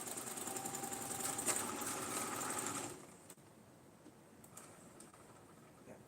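A sewing machine stitches liners with a steady, fast mechanical whir for about three seconds, then stops, leaving quiet room noise and faint clicks.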